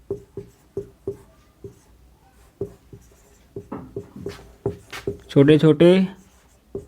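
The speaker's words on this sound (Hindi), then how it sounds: "मैं फाइल लिख दे रहा हूँ" Strokes on a board during a computer lesson on operating systems make a string of short, sharp taps and scrapes in an uneven rhythm, close by. A voice speaks briefly near the end.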